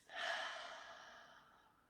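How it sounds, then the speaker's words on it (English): One slow, soft exhalation through the mouth during a relaxation breathing exercise, a gentle breathy rush that swells quickly and fades over nearly two seconds, close and quiet. "Consciously breathe in through the nose. Let it out through the mouth."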